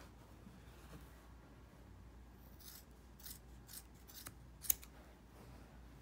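Scissors cut through a length of cord just past a knot, with a few quiet, close snips and rasping blade sounds over a hushed background.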